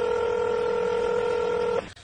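Telephone keypad dialing tones, one continuous close electronic tone held for nearly two seconds before cutting off abruptly, with no talk.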